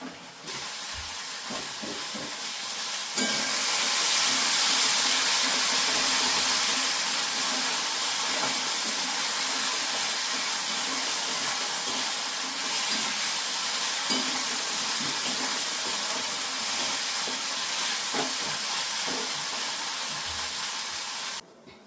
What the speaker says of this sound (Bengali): ঝোল ফুটে গেছে, এরপর আমি মাছটা দিয়ে দেবো ছটপট করে